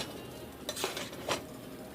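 Shrimp, onion and seasoning are folded together in a pan for shrimp fried rice, giving a few soft scraping clinks of a utensil against the pan over a faint, steady background hiss.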